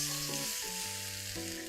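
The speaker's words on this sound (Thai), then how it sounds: "เราจะผัดจนมีกลิ่นสมุนไพรออกมานะคะ" Chicken and kelp noodles stir-fried in a pan with soup, red chilies, bird's eye chilies and torn kaffir lime leaves, giving a steady sizzling hiss under soft background music.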